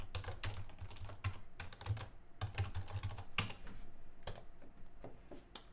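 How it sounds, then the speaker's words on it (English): A computer keyboard is typed on in quick bursts of close clicking keystrokes with short pauses between them as a search query is entered, with no speech. "if I go ahead and type in another search query here"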